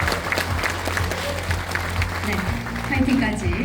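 Crowd applause greets a Democratic Party lawmaker arriving at a book launch event in a university hall, steady clapping with murmuring voices running throughout and swelling slightly near the end.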